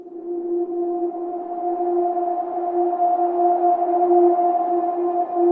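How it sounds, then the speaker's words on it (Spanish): Wailing sirens cut through the night after an incident at a city street corner, a steady two-tone blare holding loud and unbroken throughout with no voices. "De inmediato se escucharon las sirenas que atravesaron la noche"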